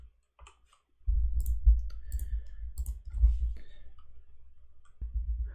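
Code being typed on a computer keyboard, heard as light, scattered key clicks over a low rumbling background hum, fairly quiet and close.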